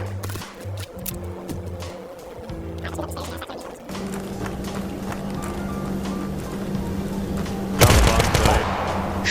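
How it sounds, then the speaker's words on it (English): Gunfire in the Tactical Assault VR shooter: bursts of rapid shots and heavy bangs, loudest in a big blast near the end, mixed with game sounds and players talking throughout. "The guns are extremely loud, as they should be, and it feels like an actual explosion is going off in front of your face."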